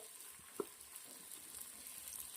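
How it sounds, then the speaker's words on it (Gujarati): Potato cubes sautéing in a pan for Rajasthani Rathodi pulao, a faint, steady frying hiss with one small clink, heard alone. "5 મિનિટ સુધી બટાકાને સાંતળી લઈશું."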